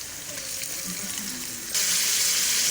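Minced meat tipped into a pan of lightly browned onions for spicy green chili qeema, a steady wet sizzle and hiss that jumps sharply louder partway through as the meat hits the hot oil.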